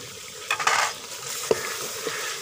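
Spiced chicken biryani mixture with green chillies, garam masala, fenugreek and ground coriander frying in a pot, close sizzling with scraping spoon strokes and a few metallic clinks against the pot.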